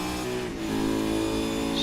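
A V8 race car engine roars loud and close at high revs on a flying lap, a dense, steady drone with a slight dip in pitch before it picks up again.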